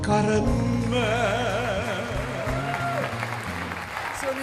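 Studio audience applause on an Italian TV show, a steady dense clapping sustained at full loudness throughout, with music tones running underneath.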